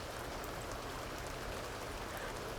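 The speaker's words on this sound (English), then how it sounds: "Even Dina came running out into the rain to wish her sister good luck." Steady rain falling in The Sims 2 game, a soft continuous patter of drops on surfaces throughout, fairly quiet and with no voices.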